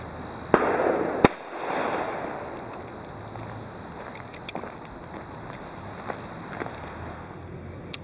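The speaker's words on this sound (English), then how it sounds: "So let's take a shot at the ballistics gel and see how this performs." A .38 Special revolver with a short 1 7/8-inch barrel fires Hornady Critical Defense 110 gr rounds into clear ballistics gel outdoors: one sharp, loud crack early on, then faint scattered ticks and rustling.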